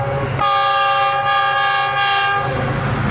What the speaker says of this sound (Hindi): अब सुबह रफ्तार ये गुज़रने लगी है गुजरांवाला कैंट से